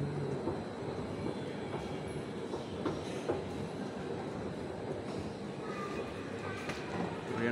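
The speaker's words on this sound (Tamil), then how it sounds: "ட்ரெயின் வந்து வந்துட்டுருக்குங்க" A Chennai Metro train pulls into an elevated station, giving a steady broadband rumble of rail noise with faint wheel squeal and clatter throughout, close and continuous.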